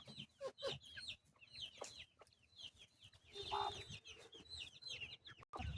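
Hens cluck steadily around a water dish of jaggery water while newly hatched chicks peep in high, rapid bursts close by, with no voices over the flock.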